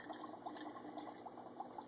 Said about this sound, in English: I'm just going to go ahead and pour it into a container.